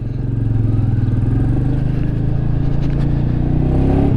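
A 2022 Royal Enfield Meteor 350 single-cylinder motorcycle riding through town, its engine throbbing loud and close in a steady, even drone that holds through the clip.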